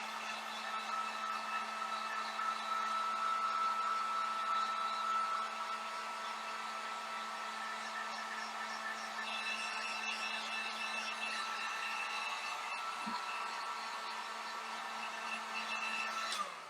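A hair dryer blows steadily on wet paint over a stencil, a constant close whooshing hum with a fixed tone. The pitch shifts slightly as it is moved, and it runs without a break.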